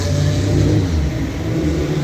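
Corvette race car with an LS V8 at a vintage racing paddock, a steady, close, loud engine drone with a slight rise in revs, no talk.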